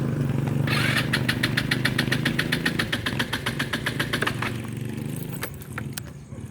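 Broken-down motorcycle engine cranking and running, a rapid ticking rattle pulsing through a steady mechanical drone, close and fairly loud, then settling and fading toward the end, no talk.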